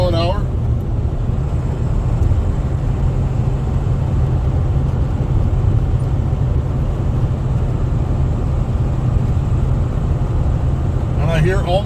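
A 1996 Ford F250 pickup cruises at about 65 mph, heard from inside as a steady loud road and engine drone with a low rumble and tire roar, unbroken for the whole stretch.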